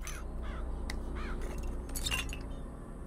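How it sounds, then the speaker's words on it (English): In the video game BioShock Infinite, a summoned murder of crows caws harshly in several quick bursts, mixed with faint glassy clinks over a low, steady game rumble. "Press to summon murderous crows."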